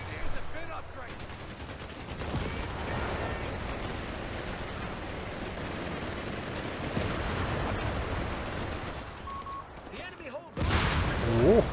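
Machine-gun fire from a World War II real-time strategy battle between German Wehrmacht and US forces: a dense, continuous crackle of distant automatic bursts and battlefield noise runs throughout, with someone talking over it.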